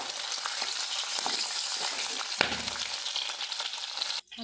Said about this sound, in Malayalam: ഇത് നല്ലോണമെന്ന് വറുത്തിട്ട് ചേരാം